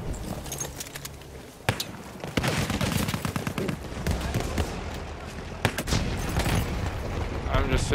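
A sniper rifle fires repeatedly during a Battlefield match, with sharp close cracks among other gunfire and battle noise, while players talk over the action.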